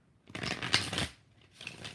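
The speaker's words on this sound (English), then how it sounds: "2 more shuffles for Nadia." Quick riffling bursts of tarot cards being shuffled, close and fairly soft, with a brief pause before a lighter final riffle.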